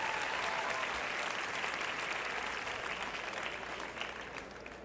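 Steady, fairly loud applause from a big indoor crowd at the National Dog Show, cheering on a Bearded Collie in the ring, tapering slightly toward the end with no talking.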